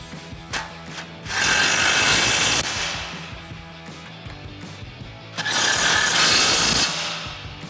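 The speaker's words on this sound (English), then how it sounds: "We'll tighten these back down again with our 18mm socket." An 18mm socket on a ratchet tightens lower strut nuts on a 2004-2025 Ford F-150 during a leveling kit install, with two loud bursts of rapid ratcheting clicks separated by quieter handling noises.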